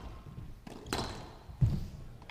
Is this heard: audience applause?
no